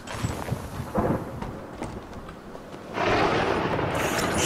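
Thunder and lightning in the horror video game Amnesia, scattered low rumbles and cracks followed by a sudden loud rushing roll of thunder that sustains to the end.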